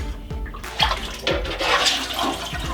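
Water pours and splashes steadily as a turkey is lifted out of a pot where it sat fully submerged, a continuous, fairly loud draining rush with occasional low thumps.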